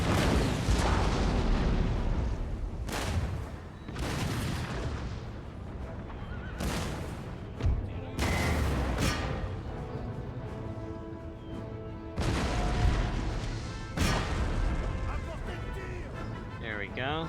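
Musket volleys from line infantry in Total War: Empire, a French campaign battle against the Ottomans: repeated loud booming bursts every couple of seconds, dense and close, over a battlefield din with a voice talking throughout.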